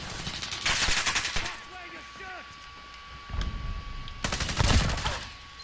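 Automatic weapon fire in Call of Duty Modern Warfare beta comes in loud bursts with quieter gaps between, and someone talks in the pauses.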